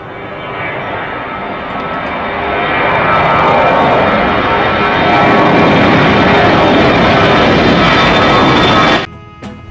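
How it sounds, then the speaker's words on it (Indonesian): A toy airplane passes with a steady, loud engine drone that swells slightly and holds for about nine seconds, then cuts off abruptly near the end. "ada pesawat terbang."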